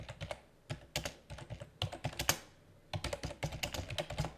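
Rapid keystrokes on a computer keyboard while entering text in a drawing program, a steady clicking patter in quick bursts with a short pause midway, close and clear with no talking.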